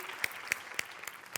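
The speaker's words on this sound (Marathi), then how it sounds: "जोरदार टाळ्या" Applause after a stage comedy performance, heard as a handful of sharp, separate claps, about five spaced roughly a quarter second apart, over a quiet room hum.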